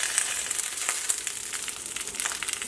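Chicken pieces for a mirin-glazed dish brown in a frying pan, giving a fairly quiet, even hiss with crackly pops and a few soft clicks as the meat is turned.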